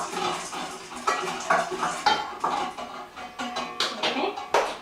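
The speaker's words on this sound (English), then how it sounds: "I'm just going to quickly stir around the chocolate" A spoon stirs melted chocolate with vanilla extract in a bowl, giving a run of quick clinks and scrapes against the sides in an uneven rhythm, close and moderately loud.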